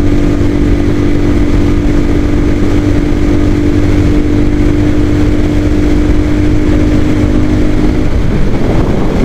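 A Royal Enfield Himalayan Scram 411 motorcycle cruising at highway speed, around 100–125 km/h in fourth gear, with a loud, steady engine drone and heavy wind rush throughout, and the tone shifting slightly near the end.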